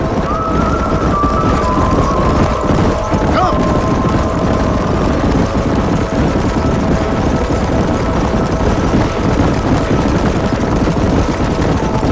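Horses galloping through a canyon in Red Dead Redemption, a dense continuous rumble of hooves mixed with loud wind and movement noise at steady volume, with a brief tone near the start and no talking.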